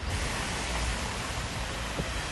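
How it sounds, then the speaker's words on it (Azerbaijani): Heavy rain pouring down on a flooded street in Kurdamir, a steady broadband roar of downpour without pause and no speech. "Yağış yağır Kürdəmirdə"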